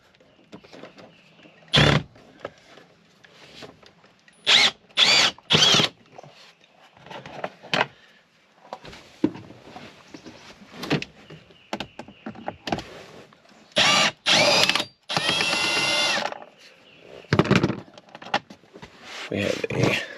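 Power drill backing Phillips head screws out of the steering column cover on a RAM Promaster van, short whirring bursts in repeated spurts with quiet gaps between, close and fairly loud.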